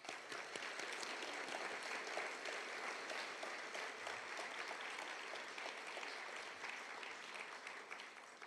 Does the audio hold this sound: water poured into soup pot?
no